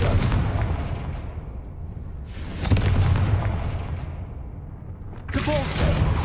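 Confringo blasting spell detonating in a video game: several heavy, rumbling booms spaced a few seconds apart, each swelling then decaying into a low roar.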